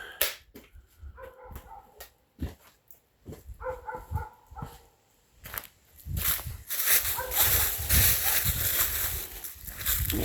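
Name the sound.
dog barking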